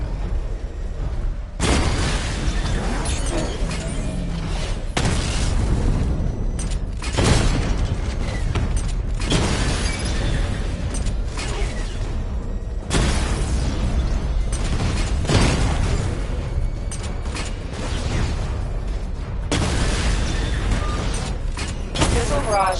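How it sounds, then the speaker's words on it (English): Missile barrage explosions striking targets in a Batman video game, a series of loud booming bursts in several clustered waves, with a voice speaking over the blasts. "Charge up missile barrage to level 2 and destroy 4 active targets to complete diagnostic test."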